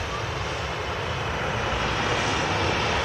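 A Boeing 737-800 at Manchester Airport produces a continuous, loud, broadband engine roar, steady and unbroken throughout with no voices over it.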